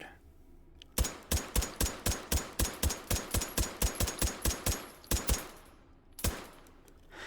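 A Bergmann No 5 machine gun in H3VR fires a rapid, evenly spaced burst of about fifteen sharp shots, then two more quick shots and a single final report after a pause.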